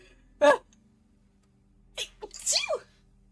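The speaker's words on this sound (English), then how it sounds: "Oh god, I'm about to sneeze." A single sharp sneeze bursts out, followed a moment later by a second, more drawn-out sneeze with a breathy, wavering finish, quiet surroundings otherwise.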